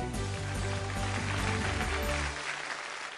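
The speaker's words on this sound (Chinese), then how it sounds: "掌声有请我们今天的第二位神奇动物推荐人， 刘山" A studio audience applauds on a television science show welcoming a guest presenter, a dense sustained clapping that fades out near the end, over a loud music bed.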